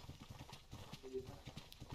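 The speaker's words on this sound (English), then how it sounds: "Do you hear footsteps?" Footsteps in a horror video game, a steady run of soft, rhythmic thuds at close range, with voices talking over them.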